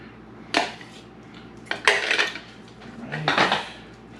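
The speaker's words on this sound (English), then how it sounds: "I'll whisk that in" A whisk works ingredients together in a pot for a funeral potatoes dish, making three short bursts of close metallic scraping and rattling separated by brief quiet gaps.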